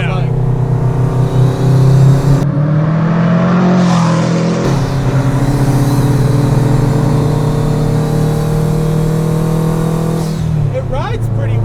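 A 400 hp Factory Five 818C sports car engine roars loudly up close, revving and accelerating with a steady droning pitch that dips and rises.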